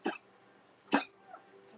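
A dog coughing in short bursts, two sharp hacks about a second apart followed by a fainter third, close and clear with no talking.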